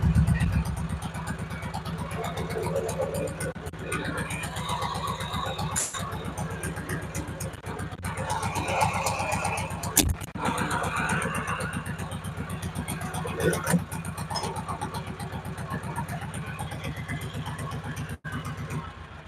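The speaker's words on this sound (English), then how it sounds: "this is a 2003 tractor, little 2-cylinder" A small 2003 two-cylinder diesel tractor engine runs steadily nearby with an even, throbbing low chug, continuous for the whole stretch, with a few brief knocks on top.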